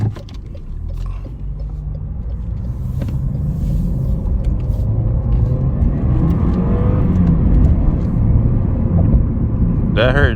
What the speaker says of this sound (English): I feel that turbo. I heard it kick in too.